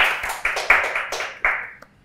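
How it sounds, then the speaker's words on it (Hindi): An audience claps for a whole team at a music event, a short burst of scattered, uneven handclaps coming in quick irregular spurts and fading out after about two seconds. "गाइस एक बार जोरदार तालियां होनी चाहिए फॉर द होल टीम।"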